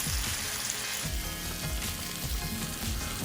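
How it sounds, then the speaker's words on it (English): New York strip steak sizzles steadily in a pan as butter and thyme are spooned over it, a constant close frying hiss with soft scraping strokes of basting throughout. "You're now going to just baste your steak."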